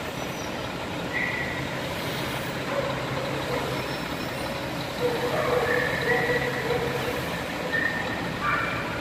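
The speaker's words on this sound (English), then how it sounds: "That's a big truck." A large truck's engine rumbles steadily nearby, with faint high beeps and a hiss of brakes over the continuous heavy drone.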